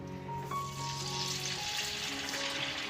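Hot oil sizzles and crackles steadily in a frying pan as rice bhaji (fritters made from cooked rice) are dropped in to fry, a dense, continuous hiss close by with no talking.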